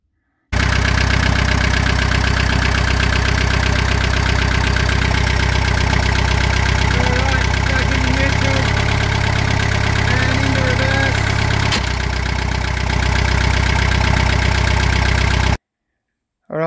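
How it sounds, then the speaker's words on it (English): A marine inboard engine fitted with a new Hurth HBW100 gearbox, replacing a ZF12M, idles steadily close by, a loud continuous drone with a slight change in tone midway and no talking. "New gearbox is in and running and well installed."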